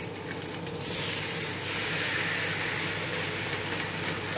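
Duck pieces frying skin side down in a pan give a steady, moderately quiet sizzle and hiss that swells slightly after the first second and holds evenly.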